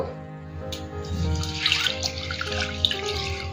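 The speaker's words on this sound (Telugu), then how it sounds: "ఇప్పుడు ఇందులోకి వాటర్ యాడ్ చేసేసి ఫ్రెష్గా రెండు సార్లు కడుక్కుందాము" Lentils being rinsed by hand in a bowl of water before soaking for a protein-rich dish: steady close sloshing and swishing with splashy bursts, no talking.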